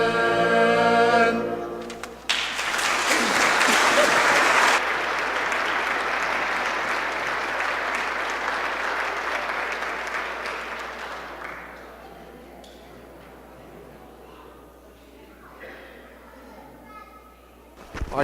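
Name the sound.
audience applause after a church performance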